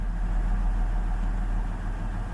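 A Ford 4.2 engine idles steadily at close range, a continuous low, even rumble with no pauses and no voices over it.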